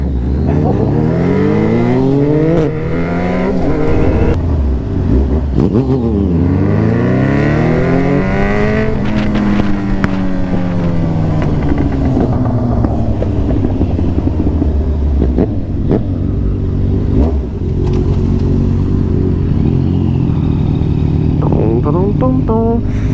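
Yamaha MT09 and Yamaha XJ6 motorcycles ride together through London streets, engines close and loud throughout with rising and falling revs as they accelerate and shift gears, a steady roaring drone with repeated pitch sweeps.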